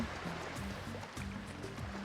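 Water is released in a video game, a soft continuous rushing and trickling like a stream that runs quietly throughout, with low tonal sounds beneath and no speech.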